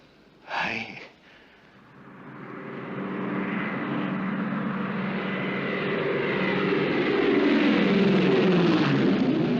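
A Trans-Australian Airways propeller airliner on Flight 571 from Darwin arrives, its engine roar rising from a brief breath at the start into a steady, broad drone that grows louder and nearer over the seconds.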